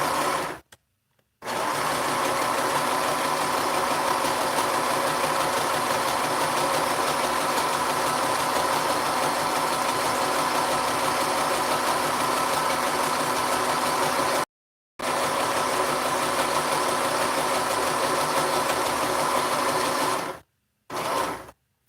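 A sewing machine runs in long continuous bursts while stitching a fabric face mask, with a steady mechanical whir that stops briefly twice between runs. It is fairly close and no one speaks.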